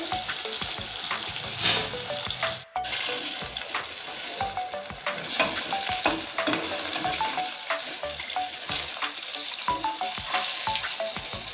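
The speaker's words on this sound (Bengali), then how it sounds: "একদম লাল লাল করে ভেজেছি মাছের পিসগুলো" Pomfret fish pieces frying red in oil in a pan, a steady close sizzle with light stirring and scraping, a short dip partway through, and no voices.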